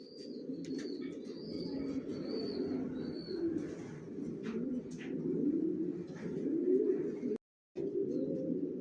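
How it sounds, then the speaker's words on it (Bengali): A pair of adult racer pigeons coo in low, rolling calls, near and steady throughout, with faint higher chirps and brief wing flutters; no voices. "এখানে এক জোড়া অ্যাডাল্ট কবুতর দেখাচ্ছি।"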